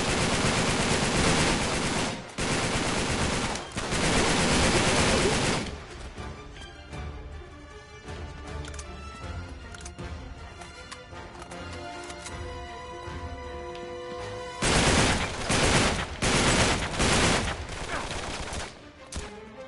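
Heavy gunfire in the video game Uncharted 3: loud, dense bursts of automatic shooting open the stretch, ease into a quieter passage with musical tones, then return as rapid firing near the end.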